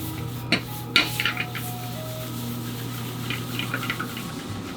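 Chicken being stirred into nasi goreng fried rice in a pan, with a few sharp clinks of utensil against the pan and steady scraping and clatter over a constant background hum.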